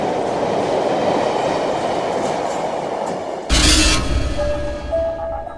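Steady rumble of a Mumbai local train running along the track, a dense low roar with faint clatter that jumps louder partway through as a carriage rushes close, with a thin squeal at the end; no voices.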